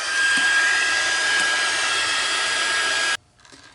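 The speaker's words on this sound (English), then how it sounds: "And I'm going to heat that with my heat tool." A heat tool blowing hot air over paper, a loud, steady whooshing hum held close for several seconds before cutting off abruptly into quiet.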